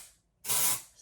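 Batiste Blush dry shampoo sprayed onto the top of the head: after a short silence, one sustained aerosol hiss of about 0.4 seconds, close and loud, fading off, with no talking.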